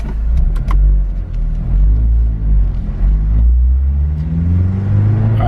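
An Acura RSX DC5 with hybrid and racing upgrades revs hard, its loud close engine note climbing steadily in pitch with a sharper edge as it passes through VTEC crossover, over a deep continuous rumble.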